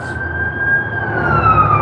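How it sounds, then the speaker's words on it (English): A fire engine's siren holds a loud, steady wail, slowly shifting pitch, with traffic rumbling beneath it. "More sirens."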